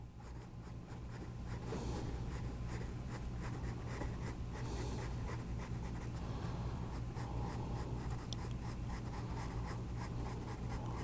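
A No. 2 pencil sketches lips on paper, its graphite scratching in steady, continuous strokes with a rapid stroking rhythm. The sound is close and fairly even throughout, with no talking.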